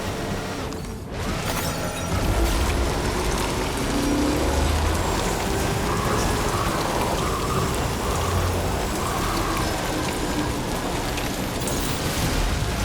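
Steady, dense rain pours down in the video game Death Stranding 2, a continuous wash of drops spattering on surfaces with a faint low rumble beneath, with no talking.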